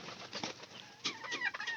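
Pigeon trapped up in a room under a roof, with faint fluttering and soft scattered bird sounds, a couple of brief louder bursts, and no talking.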